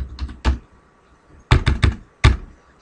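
Keys on a computer keyboard are struck in small sharp clusters, a few quick taps, a pause, then a burst of four and a final keystroke, close and clear with no talking.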